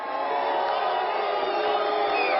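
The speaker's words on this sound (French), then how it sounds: "Sifflet nourri lorsque le candidat du Front National apparaît sur les écrans" Election-night party crowd at a candidate's headquarters, loud and continuous with a dense wash of voices, booing and scattered whistles sustained throughout.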